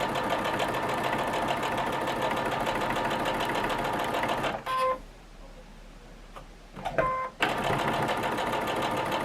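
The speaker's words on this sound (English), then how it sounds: "And take your time and just sew." A sewing machine stitches a quilt block, its rapid mechanical whir running steadily up close, breaking off into a short pause with a few clicks before starting up again.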